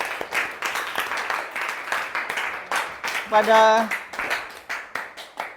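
Classroom applause for a group that has just presented, a brief patter of claps mixed with students' voices and a short musical jingle.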